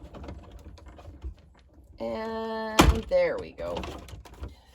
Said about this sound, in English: And we're going to run that through our machine.